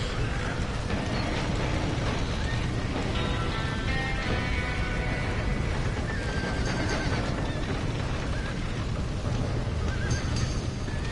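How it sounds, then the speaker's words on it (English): Several horses neigh and whinny repeatedly amid clopping hooves and a steady rush of noisy background commotion, from the video game Red Dead Redemption. "Somebody get them horses out!"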